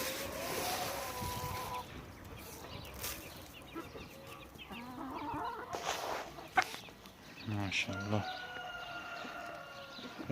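Chickens and roosters in a backyard coop cluck and call intermittently at a moderate distance, with scattered squawks and faint background noise; a person speaks briefly in places.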